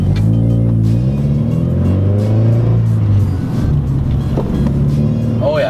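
New car pulling away from a full stop in sport mode, a loud steady engine drone rising in pitch as it accelerates, continuous throughout with brief talk from people inside.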